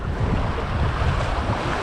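Strong wind buffeting the microphone over the rush of sea waves near an island off İzmir, heard from a kayak, a constant loud low roar outdoors with no voices.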